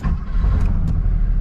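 A Porsche 911 SC with a freshly rebuilt engine idles right after starting, giving a strong, close low rumble that stays steady, with two faint higher ticks on top.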